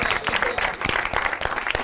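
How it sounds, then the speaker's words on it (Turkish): Audience applause at a comedy show, dense and steady clapping from a crowd filling the whole stretch, close and fairly loud with no talk over it. "Alkışlar"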